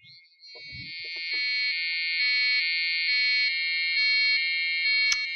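An Arduino-driven piezo buzzer sounds a steady, shrill electronic tone that pulses slightly in loudness over several seconds, after a few soft clicks and taps at the start.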